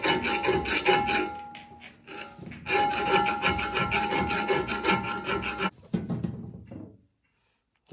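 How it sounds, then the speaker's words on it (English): A hand file rasps back and forth across a metal part of a brush mower being serviced, with rhythmic scraping strokes close up that pause briefly in the middle and fade into quiet at the end. "I'm gonna get a file and just file it down in there"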